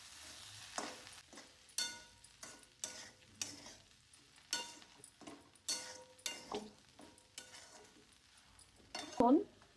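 Okra curry with turmeric and red chilli powder is stirred in a pan, giving a faint sizzle under a steady rhythm of scraping and clinking spatula strokes, with a short sharper clatter near the end.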